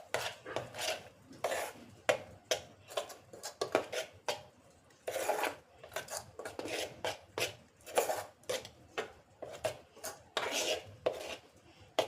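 Cake batter with Eno is worked in a bowl, giving repeated scraping, tapping strokes of a utensil against the bowl in an irregular rhythm, close and fairly quiet.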